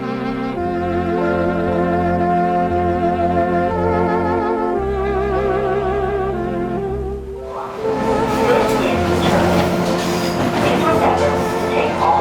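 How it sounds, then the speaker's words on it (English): A Metro Cammell train on Hong Kong's MTR East Rail Line pulls into Sha Tin platform: a steady layered tonal whine gives way to a loud, close rushing rumble with metallic squeal. "As the train rolled into the platform of Sha Tin, which marks the end of the railway legend."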